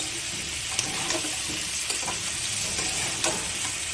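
Spice paste sautéing with ash gourd and prawns, a steady close hiss of frying with occasional light stirring clicks and scrapes, no voices.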